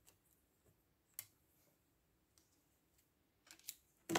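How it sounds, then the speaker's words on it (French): Small scissors snip ribbon for a handmade Christmas card, making faint, close clicks scattered across a quiet room, with a louder cluster of snips at the end. "Voilà, un petit ciseau."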